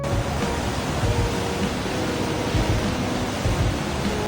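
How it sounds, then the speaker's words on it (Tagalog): Water rushes steadily at Huka Falls near Taupo, New Zealand, a dense, continuous roar close by with no voices over it. "Dinig nyo yun mga Mars, ang lakas ng alon."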